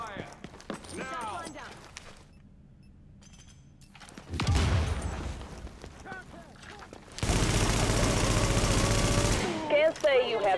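Gunfire from the video game The Division in a Pier 93 resistance wave: bursts of automatic weapon fire, including a long sustained loud volley, under frequent talk.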